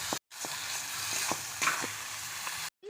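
Spice paste with salt, turmeric, slit green chillies and chopped tomato is stir-fried for a chicken curry, giving a dense, loud, close sizzle. Faint spatula scrapes and taps come through it, with brief silent cuts at the start and end.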